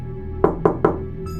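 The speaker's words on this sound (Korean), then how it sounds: "누군가 우리 집 문을 두드리는 소리가 들렸다." Three quick, hollow knocks on a house door land in an even rhythm, close and distinct against a quiet background, used as a sound effect in a spoken horror story.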